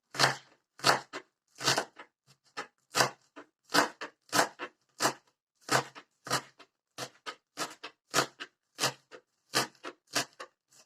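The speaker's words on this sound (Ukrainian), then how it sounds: "Нарізаємо цибульку дрібненько." Onion being finely chopped with a knife on a board in a village kitchen, a steady run of sharp, close knife strikes in an uneven rhythm, about two per second, with no voices.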